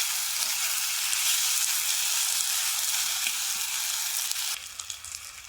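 Potatoes fry in a pan for a Bengali potato curry, giving a steady, close sizzle with light crackling throughout. The sizzle drops a little near the end, with occasional stirring and no talking.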